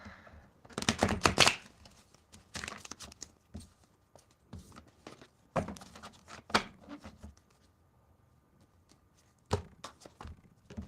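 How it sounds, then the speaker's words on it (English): Rapid riffling bursts of shuffling a tarot deck come in several clusters, interspersed with softer taps and handling noises, close up with quiet pauses between. "Let me just do a shuffle on this deck really quick."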